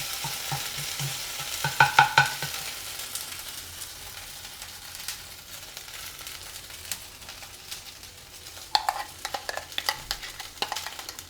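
Ginger garlic paste frying in an onion and jeera mix, soft steady sizzling under clinks and scrapes from a stirring spoon against the pan, with brief bursts of louder clatter.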